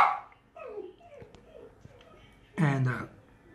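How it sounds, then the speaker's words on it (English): A dog at home barks and whimpers excitedly at someone outside, several yips and whines of varying pitch ending in a louder bark-like burst, with a person talking in between. "My dog's going bananas."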